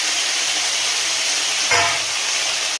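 Vegetables sizzle loudly in hot oil seasoned with cumin, a steady broad hiss filling the whole moment, with a brief surge as more food hits the pan, near and alone.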